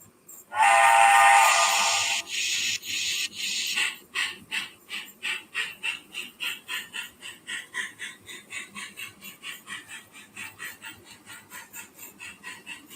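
Model steam locomotive starting off, a loud steady hiss of venting steam giving way to rhythmic chuffs that quicken and gradually fade as the engine pulls away.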